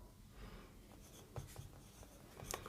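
Chalk or marker scratches on a board during a trigonometry lesson on height and distance, faint short strokes and taps in a quiet room, with no speech.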